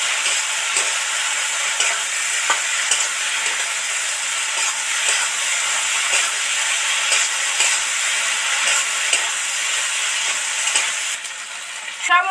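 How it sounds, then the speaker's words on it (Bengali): Liquid spice paste frying in bubbling oil for an okra chorchori, a steady dense sizzle and hiss with faint stirring clicks throughout, close and continuous with no talking. "এই যে তেল বুজবুজ বুজবুজ করছে, ওই তেলের মধ্যে দিয়েই এবার ভালো করে ভাজা হবে।"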